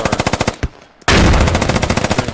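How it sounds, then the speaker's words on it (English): Automatic rifle firing in the video game Squad, a rapid burst of close, loud shots, a brief pause, then a longer sustained string of fire. "Oh, and the AR brings fire."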